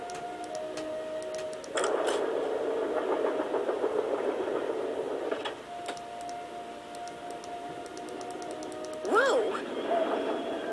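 A train in the Nancy Drew game Last Train to Blue Moon Canyon grinds to a halt as its emergency brake is thrown, with a steady mechanical rumble, a rising screech near the end, and a startled voice exclaiming over it.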